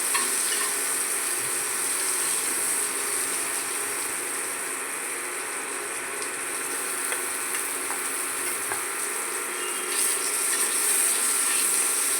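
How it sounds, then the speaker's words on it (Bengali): Tomatoes fry in a turmeric and salt spice tempering for a cabbage curry, with a continuous bright sizzle close by and occasional faint scraping, steady for the whole stretch. "টমেটোটা এই ফোড়নে ভেজে নেব।"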